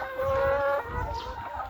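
Black chicken on a Thai farm gives a drawn-out crowing call followed by a few clucks, close and fairly loud, with no one talking.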